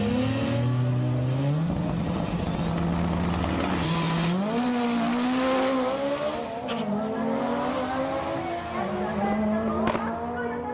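A turbocharged drag racing car with a 2.1-litre engine and HKS T04R turbo revs hard and climbs through gears, whining loudly with turbo whistle, then fades slightly as it passes, loud and sustained.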